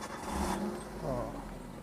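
A used car's engine starting up, a short whirring crank followed by the engine catching and settling into a low idle, fairly quiet and close, with a voice speaking alongside.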